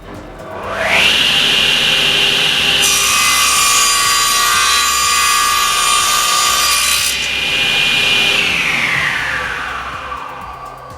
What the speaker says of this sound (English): we can actually tilt the saw to do our mitre cuts or any angle from 0 to 45